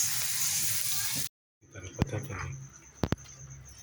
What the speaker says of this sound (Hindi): इधर मैं फ्राई कर रही हूँ फ़्राइज़